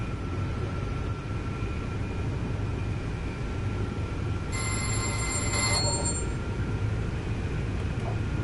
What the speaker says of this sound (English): I didn't know what that ringing sound was. It's probably some safety feature or safety system that was doing that.